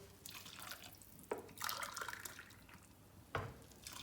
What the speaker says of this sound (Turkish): İki su bardağı da kaynamış su verdim.